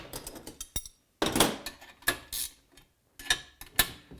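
A nut is being tightened by hand onto a carriage bolt with a washer and lock washer. Up close there are irregular bursts of ratcheting clicks and scraping metal, separated by short pauses.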